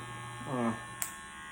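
A steady, low electric buzz of running cordless hair clippers hums throughout, with a short voiced sound briefly over it and a small click near the end.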